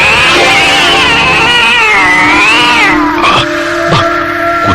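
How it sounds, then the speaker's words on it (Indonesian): A cat sound effect for a radio drama: a long, loud, wavering meow that bends up and down, followed by two sharper, shorter yowls, close and alone with no talking. "Kucing sialan."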